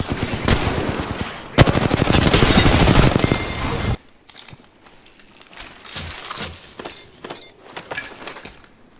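Automatic gunfire from the video game Apex Legends, a loud sustained burst followed by quieter scattered shots and game noises.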